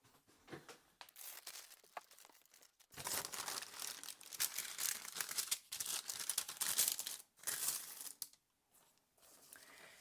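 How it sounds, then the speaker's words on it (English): Sheets of paper rustle and crinkle close by as they are grabbed and laid down for a journaling craft project, in irregular soft bursts with a few silent gaps. "So at first I grab some paper to put underneath."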